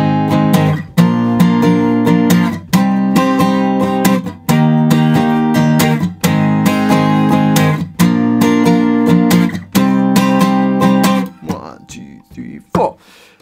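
Acoustic guitar strums the chords of the bridge of a song in steady rhythmic blocks of ringing chords with short gaps, ending in a few quieter plucked notes.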